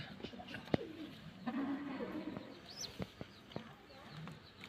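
Pigeons in a pigeon loft give soft, low cooing calls amid faint rustles and small knocks, quiet and close, with no talk.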